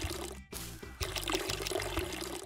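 Water is poured onto a plant in the video game Weed Shop 2, giving a brief, faint splashing pour that runs for a couple of seconds after a short gap.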